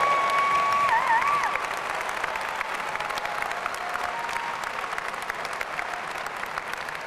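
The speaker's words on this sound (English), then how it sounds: "Let's have a cheer." Parents in a large audience at a university journalism school commencement ceremony applaud and cheer, a dense steady wash of clapping that swells loudest at the start, then settles into sustained applause with a brief whistle early on.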